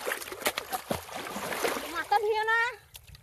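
Water splashes and trickles as a plant is washed, while a person keeps talking over it and close-up splatter comes and goes.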